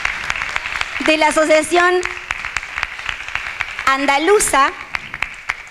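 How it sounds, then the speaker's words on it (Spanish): An audience applauds at a cultural exchange closing ceremony in Valencia, Spain, with steady clapping running beneath a speaker talking through a microphone. "Un fuerte aplauso, gracias."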